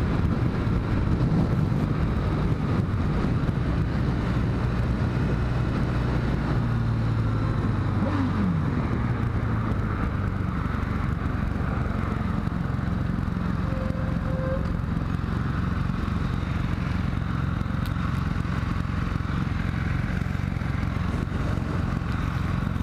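A Kawasaki W800 motorcycle ridden on the road, its engine droning steadily under heavy wind buffeting across the mic, with a brief rise in pitch partway through and no talking.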